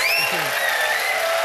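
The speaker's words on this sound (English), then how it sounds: "Big round of applause, please." Studio audience of a quiz show applauds steadily and fairly loudly at the end of the episode, the clapping running beneath a brief spoken thank-you from the host.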